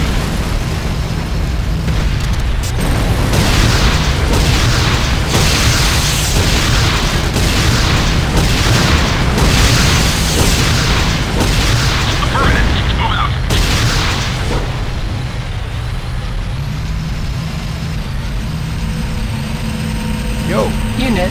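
Repeated explosions and heavy booms strike a GDI advanced guard tower in the video game Renegade, loud and steady through the whole stretch, with engine rumble and a game announcer voice over the battle.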